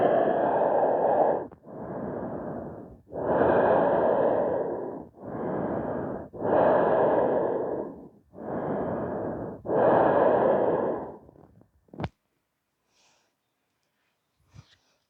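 Slow, deep breaths during a stretching exercise: seven long, loud inhales and exhales in an even rhythm, close to the microphone, followed by quiet with a couple of faint clicks.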